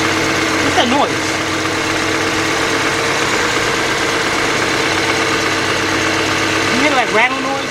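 A 2009 BMW X idles loudly and steadily up close with a turbo low-pressure side exhaust fault, a continuous rattling drone underneath and brief vocal sounds near the start and end.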